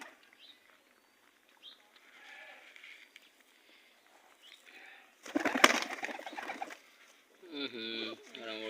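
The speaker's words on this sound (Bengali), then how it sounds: "আমার কবুতরের ডাক শুনলে অবাক।" Domestic pigeons cooing in a yard with a rooster and other birds nearby, soft intermittent calls rising to a louder burst of fluttering and close cooing near the end, with a voice briefly heard.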